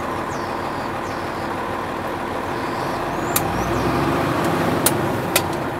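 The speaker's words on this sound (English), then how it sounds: "I'm going to give it a little bit of gas" A truck engine idling steadily and revving lightly during an air brake inspection, with a constant low rumble and a slight rise in level, plus a few sharp clicks toward the end.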